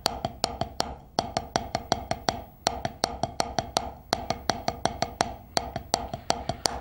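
Drumsticks strike a practice pad in quick even groups of four strokes per hand, producing crisp, dry repeated taps in a steady rhythm with brief pauses between phrases.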